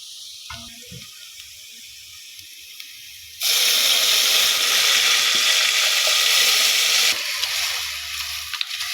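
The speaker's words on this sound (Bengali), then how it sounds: "এখন আমি সবজিটা দিয়ে দিই" Banana stem vegetables go into a hot pan of browned onion and garlic, setting off a sudden loud, steady sizzle that runs for several seconds before easing to a softer frying hiss.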